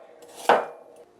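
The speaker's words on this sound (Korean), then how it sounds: "그리고 생강을 좀 이렇게 잘라서 좀 넣어주세요." A knife cuts through a piece of ginger in a single sharp thin slice, one crisp chop against the board over a quiet kitchen background.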